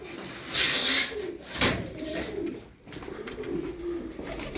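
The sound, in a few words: pigeons cooing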